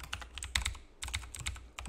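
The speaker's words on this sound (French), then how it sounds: "je suis avec mon Razer, mon clavier Razer. Donc voilà, il fait beaucoup de bruit" Clicky typing on a Razer computer keyboard during a Fortnite session, two quick bursts of close, loud keystrokes separated by a brief pause.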